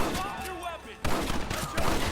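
Rapid gunfire from a shootout in the video game Red Dead Redemption, a dense volley of cracks that surges after a short lull, with shouting voices mixed in.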